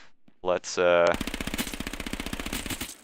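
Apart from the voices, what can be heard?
Hellfire 4-6 submachine gun firing in video game H1Z1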